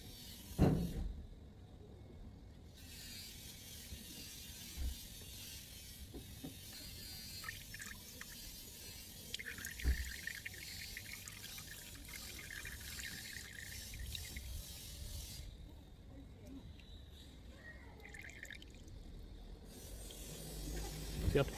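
Engine oil drains from a Nissan Elgrand during a service, pouring in a steady stream into a drain pan below the vehicle. The trickle and splash continue evenly throughout, close and moderately quiet, with no speech.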